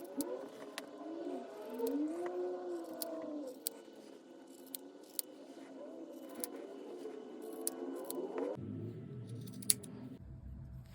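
Scissors snipping through hand-knit fabric between stitches to cut a steek, a series of quiet, sharp clicks spaced irregularly over faint background hum, close and soft.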